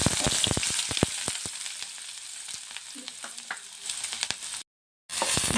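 Onion and mustard seeds frying in oil for egg bhurji, a close crackling sizzle with sharp popping spatters early on, easing to a steadier hiss before a brief silent gap and resumption.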